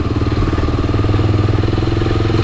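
A Kawasaki D-Tracker 250cc motorcycle with its standard exhaust runs close by, a loud, steady, rapid engine putter with an even pulsing rhythm and slight mechanical clatter.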